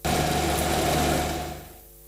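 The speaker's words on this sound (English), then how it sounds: "construction earth-moving machines are busy excavating and breaking down failed concrete buried underneath" Construction earth-moving machines excavating and breaking down buried failed concrete, a loud steady engine drone with mechanical rattle and vibration close by, fading out near the end.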